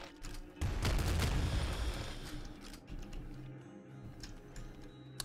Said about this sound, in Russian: Это плазма, которая стреляет и разлетается на 10 плазм во все стороны.